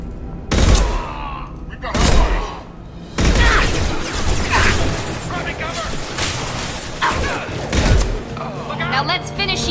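Gunfire in the video game Mass Effect 2 as True Sons and Vorcha fighters shoot, with loud heavy bursts and thuds recurring throughout amid a dense, noisy game soundscape, close and prominent.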